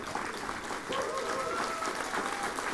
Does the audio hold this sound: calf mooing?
no